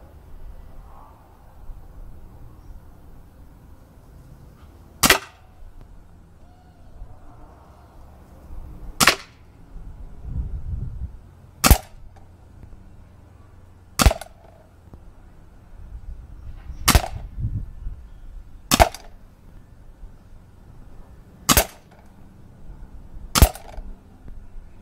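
Ruger SuperHawk revolver fired outdoors with a laser sight: a string of sharp, loud, isolated shots spaced a few seconds apart, each a brief crack with a short decay, separated by quiet stretches and faint low rumble.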